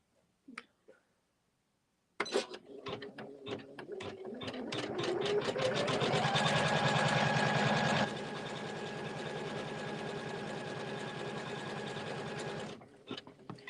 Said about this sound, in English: When you stitch out the placement line